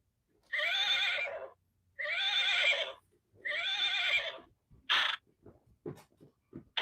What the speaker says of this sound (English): Larry, are you bringing your horse into this video?